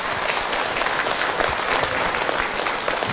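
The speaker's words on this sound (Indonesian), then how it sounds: "tepuk tangan untuk Ahilman" A seated audience at an Islamic religious talk gives loud, dense applause for the preacher, a continuous close wash of clapping.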